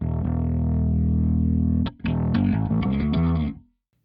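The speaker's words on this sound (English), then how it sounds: "Now it sounds like this preset has chorus in it." Bass guitar through a Line 6 POD Express preset with chorus, a long sustained low note followed by a short run of plucked notes, loud and alone, ending in silence.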